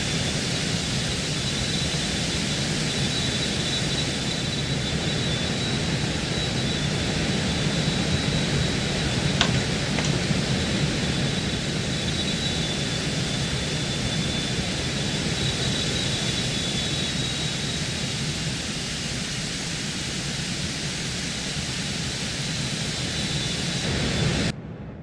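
Steady, loud jet engine roar of a Cessna Citation X in a flight sim video game during a grass strip takeoff, continuous and unbroken for the whole stretch, with a brief faint tick near the middle and no talk.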